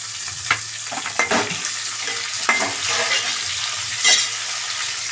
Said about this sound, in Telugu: ఫస్ట్ పచ్చిమిర్చి వేస్తున్నాను ఫ్రెండ్స్, తర్వాత టమాటాలు వేస్తున్నాను.